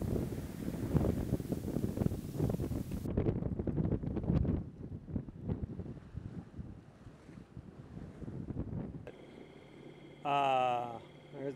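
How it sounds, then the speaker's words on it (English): Strong wind roars over a sailboat's microphone at sea off the Atlantic coast, loud, gusty and continuous, with water noise beneath; near the end a brief tonal squeal cuts in. "Here the wind picks up."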